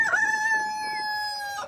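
A rooster on a farm lets out a single loud, close crow, a sustained drawn-out call with a brief rise at the start and a clipped finish, with no voices around it.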